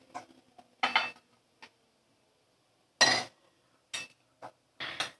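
Fried jackfruit koftas lifted out of a pan, several separate short metallic clinks and scrapes of a utensil against the pan, with quiet gaps between them.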